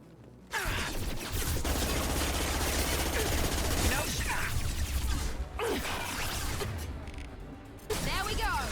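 Submachine gun firing in Mass Effect 2, a dense sustained burst of rapid automatic fire close and loud, with brief pauses, whooshes and impacts, game voices and talk mixed underneath.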